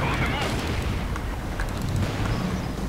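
A heavy explosion rumbles through a battle in the video game Company of Heroes 2, a dense, sustained roar of blasts and gunfire with a voice talking over it.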